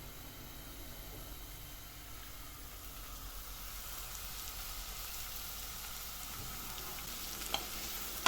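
Onions and spinach sauté gently in a pan, a soft, steady sizzle close by with a faint click near the end and no one talking.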